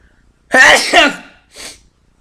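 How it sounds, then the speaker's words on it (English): A single sharp sneeze close to the mic, a quick two-part burst followed by a brief softer exhale, then quiet. "gotta sneeze."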